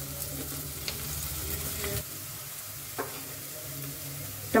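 Finely chopped green chili fries in a pan, a steady close sizzle with occasional stirring scrapes and a sharper clatter right at the end.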